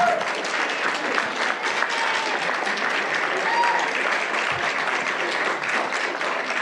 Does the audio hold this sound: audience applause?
yes